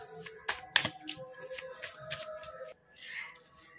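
Tarot cards being shuffled and drawn by hand in a quiet room: a run of crisp riffling slaps and soft papery flicks, ending in a brief sliding swish as a card is pulled.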